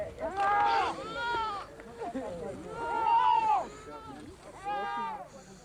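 Goats bleat in a natural pen inside a standing clump of trees in dry country, with three wavering, nasal calls spaced a couple of seconds apart, close and clear.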